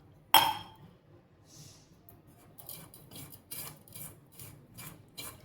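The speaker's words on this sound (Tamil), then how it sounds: "ஒரு டம்ளர் அரிசிக்கு அரை டம்ளர் ஜீனி எடுத்து வச்சுருக்கிறேன் இதை போட்டு கலந்துக்கலாம்" Parboiled rice flour being mixed by hand with sugar in a vessel, a close grainy rubbing and rasping with a sharp clink at the start, then soft repeated scraping strokes in a steady rhythm, no voices.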